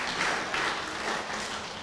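Applause in a chapel for the sisters of Paramaribo at their 90th anniversary, a steady, soft patter of many hands at a moderate distance, with no talk over it.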